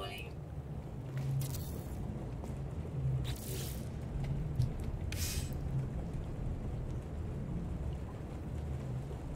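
A steady hiss of rain from a thunderstorm in the No Man's Sky video game, with rumbling thunder beneath and a few brief bursts, constant and moderately loud throughout.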